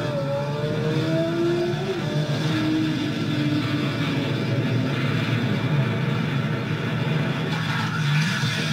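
Motorcycle engine revving steadily during a clutch demonstration, a loud continuous roar with rising and falling pitch sweeps throughout, no pauses.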